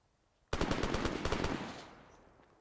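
Sustained automatic gunfire in the military shooter Arma 3, a loud close burst of rapid rhythmic shots lasting over a second, then a decaying reverberant tail fading out.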